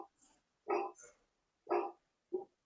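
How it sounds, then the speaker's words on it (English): A dog barks indoors in several short, fairly close yaps spread out with brief pauses between them, standing alone without talk over them. "The dog's here with me."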